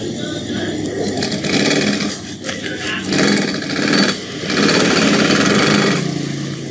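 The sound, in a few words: industrial sewing machine stitching two layers of bag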